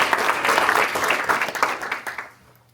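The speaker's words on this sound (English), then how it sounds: "Let's give her a round of applause." An audience at a school district board meeting breaks into steady applause, a dense wash of clapping that fades out toward the end, with faint voices underneath.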